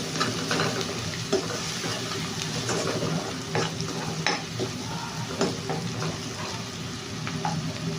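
About one and a half kilos of cleaned chicken fries in a pan for a curry made with little masala, sizzling steadily up close with frequent clinks and scrapes of stirring, no talk.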